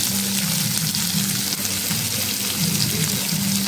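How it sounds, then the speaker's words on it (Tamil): Onions sauté in hot oil in a pan with a dense, continuous sizzle and crackle, loud and close throughout, with no voices. "இப்போ வெங்காயத்தை நல்லா வதக்கிக்கலாம்"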